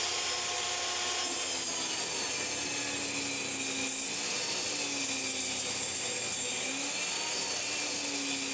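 A saw rips a 7.5 inch strip off an MDF sheet for a homemade jointer jig, a continuous loud whirring cut with faint shifting tones, steady and close throughout.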